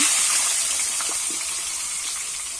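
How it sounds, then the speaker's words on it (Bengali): Pieces of pointed gourd (potol) frying one batch at a time in hot oil in a village kitchen, giving a loud, steady hiss and sizzle throughout, close up with no talking. "ওই তেলেতেই কিন্তু আমি সব সবজিগুলো ভেজে নেবো এক এক করে পটলগুলো ভেজে নেব"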